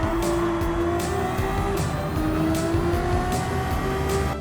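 A Genesis VGT race car in Gran Turismo 7 accelerates at Circuit de Saint Croix with a loud, steady engine drone. Its pitch climbs through repeated gear shifts while tire noise hisses underneath.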